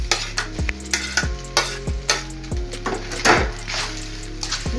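Shrimp saute in a pan with pasta and broccoli, a loud close sizzle broken by regular rhythmic scraping stirs and clanks of a utensil against the pan, with no talking.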